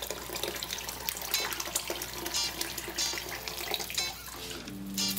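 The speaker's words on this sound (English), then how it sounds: "I'm going to add water now." Water pours and splashes into a hot cooking pan after soy sauce has deglazed the fond for pansit noodles, a steady running sizzle and trickle lasting throughout, close and moderately loud.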